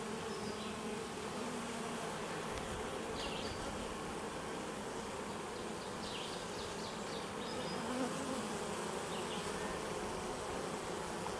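A small, young and calm honey bee colony buzzes as a soft, continuous drone close by, with individual bees flitting past in brief, louder passes.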